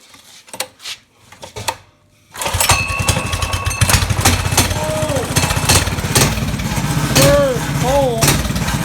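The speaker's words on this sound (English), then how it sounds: "Here's a cold start on the old Ripper." A drift trike's small engine is cold-started; after a few knocks and pulls it catches abruptly and runs on in a loud, steady, buzzing rattle, with brief voices over it.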